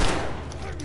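Gunfire in The Last of Us Remastered, a battle in Bill's Town: a burst of loud, dense game shots at the start, with shots continuing under the noisy action.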